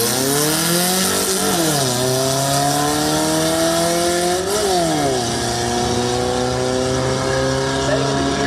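A Volkswagen Beetle drag car with chopped rear, lifted body and fiberglass fenders launches at a drag strip, its engine revving hard and climbing through gear shifts, loud and sustained.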